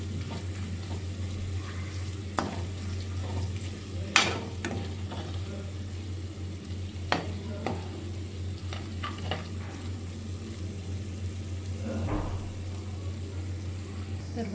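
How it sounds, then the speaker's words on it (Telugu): Chicken being stirred into gongura masala in a pan, a soft, steady sizzle with occasional spoon knocks and scrapes against the vessel, close and unhurried, with no clear talk. "బాగా కలిపేసుకున్నాక ఇందులోనే చికెన్ వేసేసుకుందాం."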